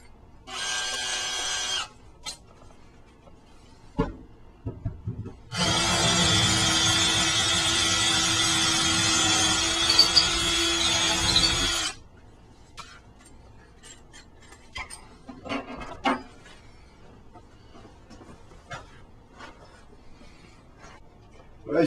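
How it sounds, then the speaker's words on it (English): A drill bores a 1/2 inch hole through a countertop for a reverse osmosis install, a loud steady whine lasting about six seconds, preceded by a shorter burst and followed by scattered clicks and handling noises. "Now I'm going to put my final hole of a 1/2 inch."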